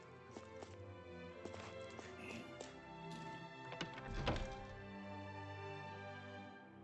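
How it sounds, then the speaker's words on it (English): Hammers banging away in the video game Tales of Arise, a steady run of rhythmic metallic knocks and clops at moderate volume over a low ambient bed, with no talking. "I always love the sound of hammers banging away"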